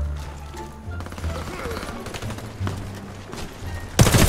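Submachine gunfire from an H&K MP5 in the shooter game Warface, with sustained automatic bursts running through the clip beneath a voice and a louder crash of fire at the very end.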